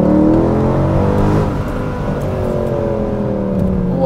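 A wrecked Mercedes C63 AMG with a 6.2-litre naturally aspirated engine pulls hard and loud and close, its note sweeping up and then easing off in a steady drone, with no talking.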